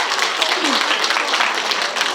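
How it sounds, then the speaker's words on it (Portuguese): Steady audience applause, dense clapping from a crowd filling the whole stretch at an even, lively level. "Pode aplaudir, gente."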